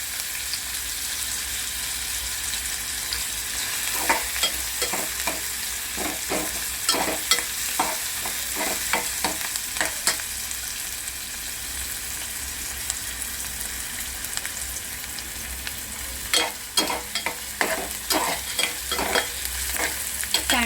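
Dried lentil dumplings (sandge) dry-roasting in a pan, a continuous low sizzle broken by repeated scraping and stirring clatters in uneven bursts, close and fairly loud.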